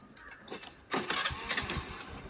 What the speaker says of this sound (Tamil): ஸோ வண்டியை நம்ம ஸ்டார்ட் பண்ணோம் அப்படின்னா கிளச்சில் வந்து ஒரு இஷ்யூ இருக்குது